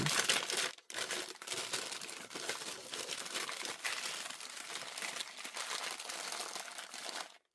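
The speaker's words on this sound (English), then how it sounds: "it is noisy, you're going to roll up your paper, and then you're just going to twist it and twist." Packing paper is crumpled, rolled and twisted close up, making a loud continuous crinkle with one brief pause near the start and an abrupt stop at the end.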